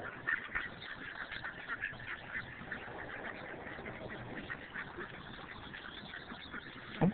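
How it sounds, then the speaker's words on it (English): Ducks quacking repeatedly at close range, a busy run of nasal calls with a louder burst near the end. "Duck."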